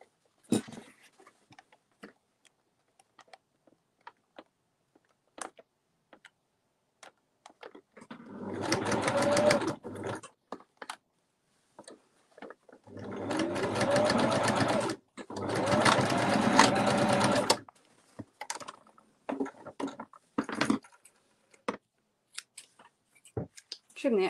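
Sewing machine stitching a fabric bowl cover shut, running in three bursts of rapid mechanical whirring separated by quiet pauses with small clicks and handling noises.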